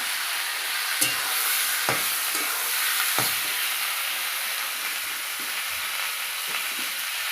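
Washed meat sizzling in a hot pan, a steady bright frying hiss with several sharp clinks and scrapes of stirring spread across the clip, close and continuous.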